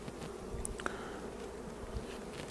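Honey bees buzz at a hive during a spring inspection of the colonies, a soft, continuous hum with a few brief louder passes of individual bees nearby.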